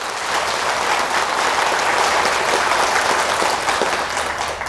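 Warm, sustained applause fills a hall as the audience at a Buddhist dharma talk claps steadily and loudly throughout, with no voices rising above it.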